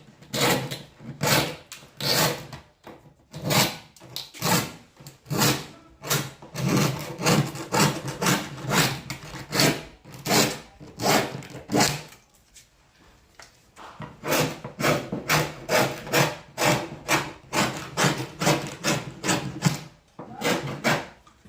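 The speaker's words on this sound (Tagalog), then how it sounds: "Parang kikil lang 'yan." A hand rasp file trims the edge of laminate in steady, rhythmic back-and-forth strokes, close and loud, with a brief pause midway before the scraping resumes.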